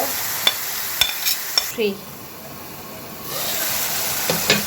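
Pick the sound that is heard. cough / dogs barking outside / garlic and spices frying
garlic and spices frying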